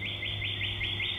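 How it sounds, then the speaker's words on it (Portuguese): A small bird chirps close by in a quick, steady run of about six or seven bright repeated notes over a faint low hum, with no voices. "E tem um passarinho que fica fazendo barulho toda hora"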